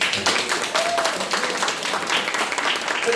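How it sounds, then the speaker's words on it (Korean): Audience at a Korean anti-corruption talk concert applauding, a dense wash of clapping from a crowd in a hall, steady throughout with faint voices mixed in. "박수 한번 보내주시죠"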